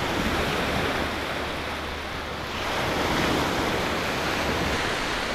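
Waves break steadily on the Lake Superior shore during a strong north wind, a continuous loud wash of surf with a slight lull midway before it swells again, and no voices present.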